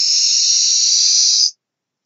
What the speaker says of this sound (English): They make screechy noises.